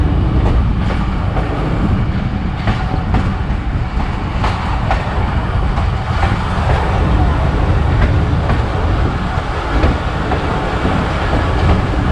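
A Zakaria Express passenger train runs between Karachi and Multan, giving a loud, continuous rumble with steady wheel-on-rail clatter and rattling carriages throughout.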